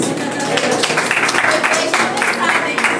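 A church congregation breaks into applause during a service, a continuous bed of clapping hands under overlapping voices and cheering, loud and close for the whole stretch.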